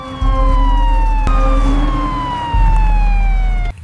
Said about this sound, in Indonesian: Tiba-tiba ada suara sirine polisi.